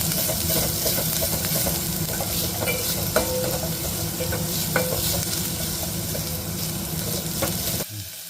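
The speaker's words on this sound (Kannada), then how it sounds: "ಇದು ಗೋಲ್ಡನ್ ಬ್ರೌನ್ ಬರೋವರೆಗೂ ಹುರಿಯಿರಿ." Chopped ginger, garlic and green chillies sizzle in hot oil for a mushroom soup, a dense continuous frying hiss with occasional stirring clicks and scrapes, close and steady until it cuts off abruptly near the end.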